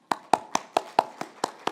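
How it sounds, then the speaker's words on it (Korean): One person claps eight times in a steady, fairly quick rhythm, with each sharp, close hand clap standing out clearly against a quiet church background. "우리 방송실 박수 한번 쳐주세요."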